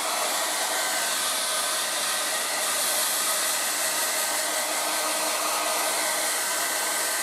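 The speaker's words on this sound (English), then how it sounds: "That's cool, low speed. That's just using the fan motor and nothing else." A Revlon 1800W dual-speed hair dryer runs on its low speed cool setting, using only the fan motor: a steady, even broadband whoosh that stays constant and close throughout, with no voices.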